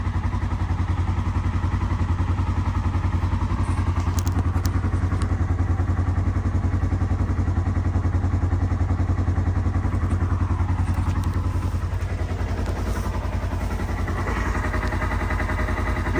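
A 2019 Polaris Ranger XP 1000 side-by-side idling steadily after a fuel pump replacement, a low, even engine drone with faint clatter, moderately quiet and unchanging, alone without talk.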